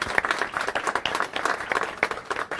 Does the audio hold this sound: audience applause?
yes